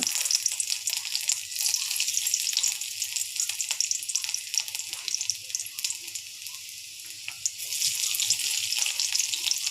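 Garlic fries in hot oil in a wok while momo stuffing is being made, producing a continuous bright, close sizzle that holds steady throughout with no talking.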